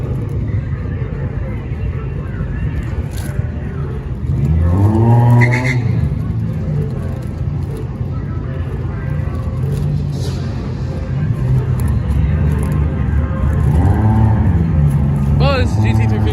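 A Ford GT350 and a nitrous-fed Chevy C10 race, with loud engines rising in pitch through hard acceleration runs under steady road roar, while people talk excitedly over the noise.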